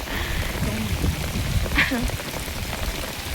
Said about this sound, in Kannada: ಸೂರ್ಯನ ಬೆಳಕು ಬರ್ತೈತೆ ಪ್ಲಸ್ ಮಳೆನೂ ಬರ್ತೈತೆ